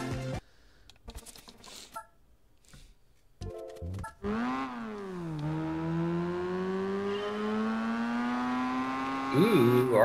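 A car engine in Gran Turismo 4 revs up after a few brief clicks and bursts, then holds a loud, steady climbing drone through gear changes, rising again near the end.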